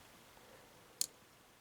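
A single faint, sharp click of a pin setting as a TESA T10 lock is picked, one crisp tick against near silence, with no talking.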